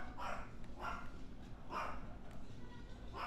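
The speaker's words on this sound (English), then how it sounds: "Got some barky dogs." Dogs barking in the video game Final Fantasy XV, several sharp, separate barks in a loose rhythm over a steady game background, moderately close, with talk mixed in.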